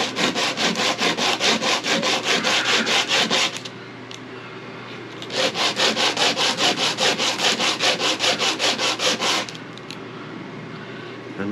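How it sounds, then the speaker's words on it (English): Rapid back-and-forth hand sanding strokes on a rubber hose, close and steady, in two long bursts separated by a short pause. "let's do a little hand sanding"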